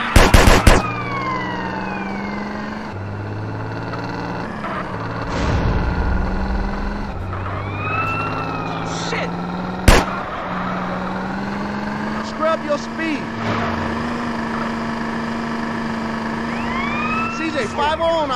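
Gunfire during a drive-by in GTA San Andreas from an '82 Übermacht Sentinel, sharp shots cracking out amid wailing police sirens, with voices shouting over the chase.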